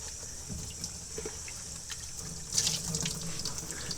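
Tap water runs steadily over Nike Foamposite Pro shoes in gray wool as they are rinsed, with a soft splashing that swells near the end.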